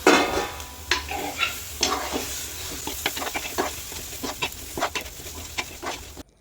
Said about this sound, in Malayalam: പച്ചമുളകും തക്കാളിയും നല്ല പോലെ ഒന്ന് വഴറ്റിയെടുത്തതിന് ശേഷം